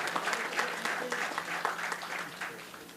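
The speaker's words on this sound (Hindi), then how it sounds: "तो एक बार तालियां बजाए आदरणीय केशव मुरारी दास जी के लिए।" Audience applause at a religious gathering, a fairly close crowd clapping in quick, uneven bursts for a few seconds, with faint voices underneath.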